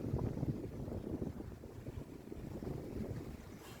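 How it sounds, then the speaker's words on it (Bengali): Heavy rain driven by strong wind, a dense steady roar of rainfall with gusting wind noise buffeting the microphone, continuous and fairly loud throughout with no talking. "অনেক বৃষ্টি, বৃষ্টির সাথে অনেক বাতাসও আছে"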